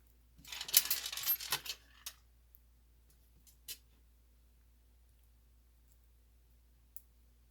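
Small metal screws and washers from a spare parts bin clink and rattle while handled for a Proboat Jet Jam brushless upgrade: a dense cluster of bright clicks early on, then a few isolated ticks in near silence.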